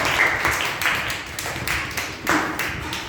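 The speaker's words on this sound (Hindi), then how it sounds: "ताली बजाइए रुद्रांशी के लिए सब लोग" Schoolchildren in a classroom clap for a classmate, a lively, uneven burst of small hands that keeps going steadily with slight surges.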